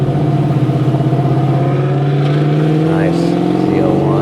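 A Chevrolet Camaro ZL1 rolls past during a car cruise, its engine a loud, steady droning rumble with strong low harmonics that shift slightly in pitch as it goes by.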